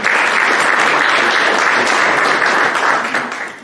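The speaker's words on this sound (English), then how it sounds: "Let's give them a round of applause" A theater audience at a city council election forum gives a loud, dense round of applause that holds steady for several seconds, then starts to fade.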